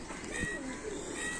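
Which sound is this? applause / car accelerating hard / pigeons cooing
pigeons cooing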